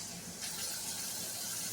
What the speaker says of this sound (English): I just washed off my vegetables with cool water